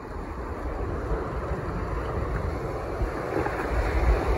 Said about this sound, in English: let's let this wave roll us in